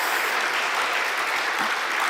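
A church audience at a teachers' revival meeting claps loudly and continuously for teachers who have served over twenty years, a full, even burst of applause with no speech over it.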